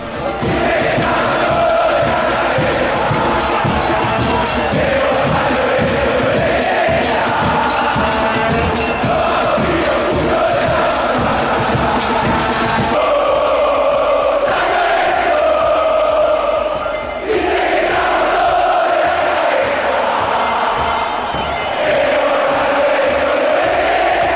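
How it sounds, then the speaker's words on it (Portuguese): San Lorenzo football supporters in a stadium, a massive crowd chanting and cheering in a sustained, rhythmic roar with a steady sung melody, loud and unbroken throughout. "Agora eu vou rodar aí algumas imagens da torcida do São Lourenço para você conhecer aí"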